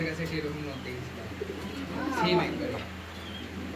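Black Andalusian pigeons at a farm coo softly in a few short calls while someone talks over them.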